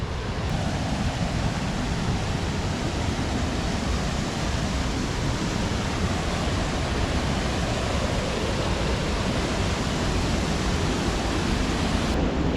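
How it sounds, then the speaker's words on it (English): Water pouring steadily over a small dam at Colonial Springs in Valley Forge, a loud, unbroken rushing roar that covers any faint road traffic, with no voices. "the sounds of the water kind of overtake the road noise"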